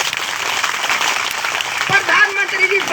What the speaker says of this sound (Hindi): मैं कहूंगी कि एक बार जोरदार तालियां मातृ शक्ति के लिए।